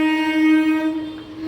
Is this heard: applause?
no